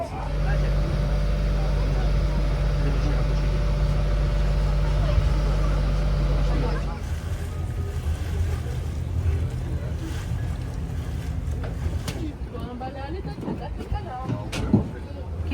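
Small boat on Lake Geneva, with a loud steady engine drone that drops away partway through, leaving water and wind noise and people talking nearby.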